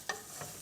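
Chicken pieces being stirred in a pan of butter while they fry: two short scraping stirs, close and clear, over a faint steady sizzle.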